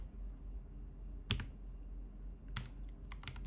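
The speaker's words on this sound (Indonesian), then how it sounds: "kita ketik aja sudo netstat" Keys are tapped on a computer keyboard while a command is entered in a Linux terminal, with one isolated keystroke followed by a quick burst of several crisp clicks, close and alone.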